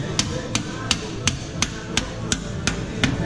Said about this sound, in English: I'm just gonna hit it with a hammer